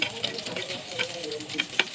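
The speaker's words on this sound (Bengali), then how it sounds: "পেঁয়াজগুলোকে অনবরত নেড়ে চেড়ে ভাজতে হবে, না হলে পুড়ে যাবে।" Onions fry in hot oil in a kadai while being stirred constantly toward golden brown, producing a close, crackling sizzle with scraping stir strokes.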